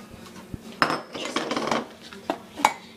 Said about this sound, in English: now we will stir in the brown sugar